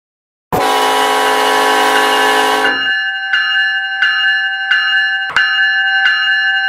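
A train bell in a video game clangs loudly and continuously, a dense ringing layer for a couple of seconds, then repeating sharp strikes at a steady rhythm over a sustained tonal hum, with no talking.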